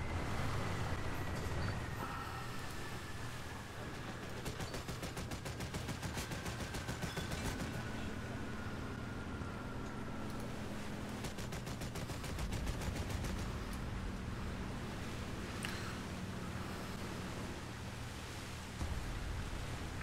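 Naval battle gunfire and falling bombs in War Thunder rumble on continuously, with dense crackling bursts of shots and heavy booms over a constant roar of engine and water noise, loud throughout with no talk.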